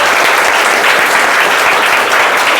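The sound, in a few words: students applauding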